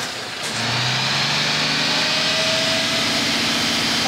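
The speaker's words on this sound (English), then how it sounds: "I'd like you to purge the exhaust system for me" An HGV diesel engine is revved to purge the exhaust, the revs rising quickly and then holding a loud, sustained roar close by, with no one talking.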